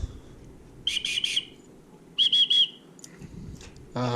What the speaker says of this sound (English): I've got a super loud whistle.